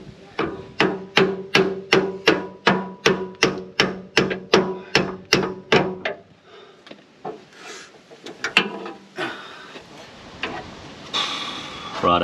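A hammer strikes metal in a fast, even run of about fifteen loud, ringing blows during trackside repairs to an aluminium part on a Cape York trip, then gives way to clatter and rummaging.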